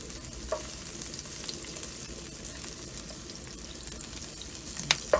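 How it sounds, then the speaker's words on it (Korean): Eggplant stir-fries in soy sauce in a pan over high heat, giving a steady close sizzle with a few sharp clinks from a utensil toward the end. "저는 지금 센 불에 볶고 있어요."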